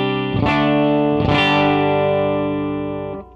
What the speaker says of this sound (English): Great rhythm guitar sounds.